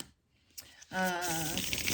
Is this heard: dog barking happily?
no